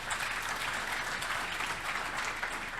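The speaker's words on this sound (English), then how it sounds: "let us clap for those volunteers first" Audience applause for school volunteers at a World Teachers' Day gathering at Comboni school, a steady dense wash of many hands clapping that holds evenly for about three seconds with no voices.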